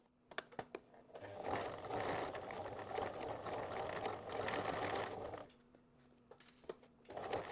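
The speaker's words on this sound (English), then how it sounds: "I'm sewing at 1 centimeter or 3/8 of an inch from the raw edge." A sewing machine stitches layers of fabric scraps into a coaster, running in a fast, even whir for several seconds, then stopping for a few light clicks before starting again, heard close and quiet.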